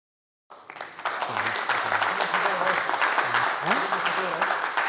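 Applause breaks out from the audience at a talk on seed selection and conservation: a sudden, dense, sustained burst of clapping with voices murmuring underneath.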